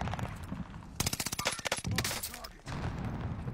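Loud rapid automatic gunfire in a Warzone firefight, a dense burst of close shots lasting over a second amid other scattered fire and game noise.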